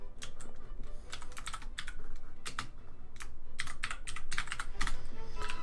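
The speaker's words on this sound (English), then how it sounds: "That's all I'm typing now. I'm just typing hearts." Rapid typing on a computer keyboard during a Minecraft game stream, a busy run of clicky keystrokes in irregular bursts, close and fairly steady with no talking.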